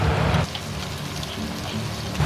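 Aromatics drop into smoking-hot chicken-frying oil in a preheated clay pot for sand ginger baked chicken, with a loud initial burst of sizzling followed by a steady close crackling fry.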